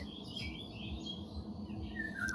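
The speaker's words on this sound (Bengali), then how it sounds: "দেখুন কত পাখির আওয়াজ।" Faint bird chirps and tweets carry through a steady low background hum, scattered and distant rather than close.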